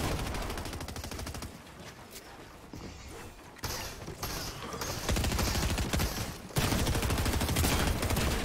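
Shotgun fire in a video game, rapid bursts of dense, repeated blasts that stop and start in sections with short gaps between them, loud and busy.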